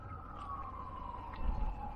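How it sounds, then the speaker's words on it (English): Faint, distant sirens drift as a thin, slowly falling tone over low rumble, barely rising above the quiet background. "You hear the sirens?"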